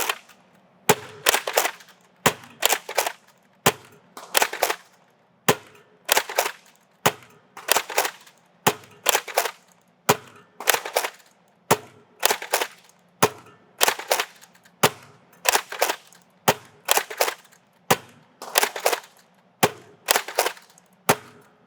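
Rapid volleys from a NERF N-Series Infinite dart blaster, firing at a target: sharp, loud pneumatic pops in quick bursts of two or three, repeating steadily and closely for about twenty seconds with no talking.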